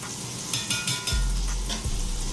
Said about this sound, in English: You put your butter in the pan.